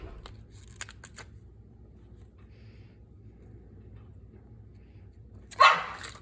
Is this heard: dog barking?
yes